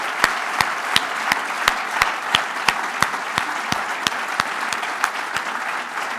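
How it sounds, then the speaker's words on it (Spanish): A crowd at a Basque Socialists campaign-closing rally gives steady, loud applause, with a bed of many hands clapping and a rhythmic unison clap beating roughly twice per second throughout. "os pido un aplauso muy fuerte para todos vosotros que os lo habéis merecido"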